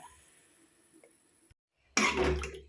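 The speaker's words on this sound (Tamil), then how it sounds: "இப்போ கொஞ்சமாக அதில் தண்ணி சேர்த்துக்கிறேன்" Water poured into masala cooking in a pan, a loud rushing splash that starts suddenly after a quiet stretch and carries on steadily to the end.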